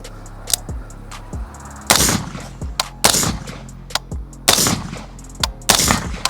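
AR-15 rifle fired outdoors in a quick string of sharp, loud gunshots, single cracks and close doubled shots spaced irregularly, each with a short echoing tail.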